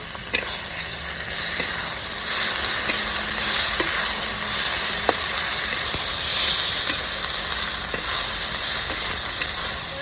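Fried onions with ginger and garlic paste sizzle loudly and steadily in a hot pan, with occasional sharp scraping ticks from stirring and no talking.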